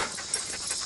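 A small dog pants rapidly and steadily at close range during a steep mountain hike, a breathy rhythmic huffing with no talking.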